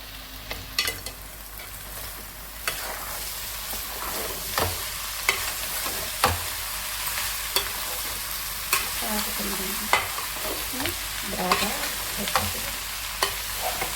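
Potato kurma with chili powder fries in a pan while a spoon stirs it, producing a steady soft sizzle with repeated sharp scrapes and clinks at irregular intervals, close by.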